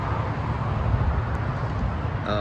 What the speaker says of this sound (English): I'm right here at Interstate 464, so you can hear it's traffic.